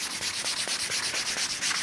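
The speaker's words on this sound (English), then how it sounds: "to be able to start sanding" Steady back-and-forth rasping of 320-grit sandpaper rubbed by hand on a live edge wood table, a quick rhythmic scratching that stays even and close throughout.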